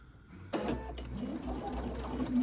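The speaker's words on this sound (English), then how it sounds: "Just sew a straight line." Sewing machine stitching a straight half-inch seam joining rows of a flannel rag quilt, starting after a brief quiet moment and running steadily at close range to the end.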